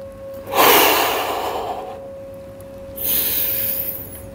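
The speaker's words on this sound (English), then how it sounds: "take 1 or 2 deep breaths." Two deep, audible breaths during a yoga hip-opening pose, a long airy exhale followed after a pause by another steady breath, close to the microphone and without talk.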